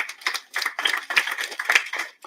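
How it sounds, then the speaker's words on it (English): Audience clapping at a prison inmates' and officers' skills graduation ceremony, a short, moderately faint burst of scattered handclaps in uneven pulses, with no talk. "Please give him another round of applause."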